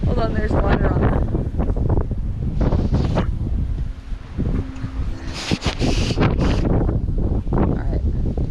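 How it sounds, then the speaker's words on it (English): Strong mountain wind buffets the microphone outdoors beside a trout river, a loud, steady roar with gusts rising and falling throughout, while someone talks over it in short bursts. "That's that mountain wind."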